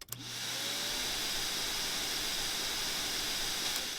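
A vacuum cleaner in Animal Crossing New Horizons runs with a steady, even whooshing hiss that holds at a constant level from start to finish.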